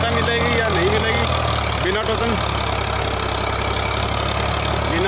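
Tractor engine running loud and steady at close range, a continuous low mechanical drone holding throughout while voices talk over it.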